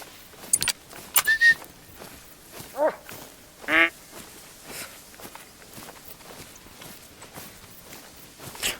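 Several short duck quacks in a duck-hunting video game, spaced out over quiet background, interleaved with soft steps and light clicks.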